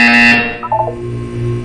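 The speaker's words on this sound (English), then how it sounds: "You will hear a buzzer." Portal 2 video game buzzer: a single loud, harsh electronic buzz about a third of a second long, followed by a brief quieter tonal chime over a low hum.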